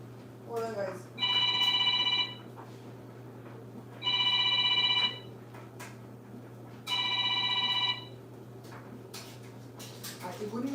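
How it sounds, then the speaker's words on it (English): A mobile phone rings in a home kitchen during dinner preparation. It gives three clear, evenly spaced bursts of bright electronic ringing over a low steady hum. "your phone is ringing"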